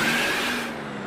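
A bus engine in a video game revs loudly and steadily for about a second, a broad roaring exhaust note with a low hum underneath, no voices.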